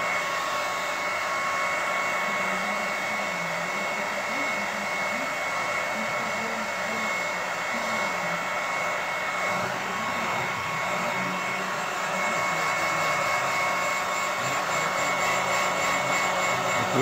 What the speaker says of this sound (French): Je vais le sécher un peu avec le sèche-cheveux et en remettre une couche derrière.